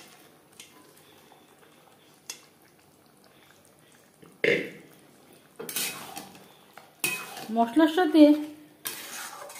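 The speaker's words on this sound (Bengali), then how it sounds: "ও চিকেনের সাথে মটর বেশ ভালো করে মিক্সড করে দেবো" A spoon scrapes and clatters through chicken and boiled peas in a masala-coated pan, several bursts of stirring with faint sizzling, growing louder toward the end; a voice speaks briefly early on.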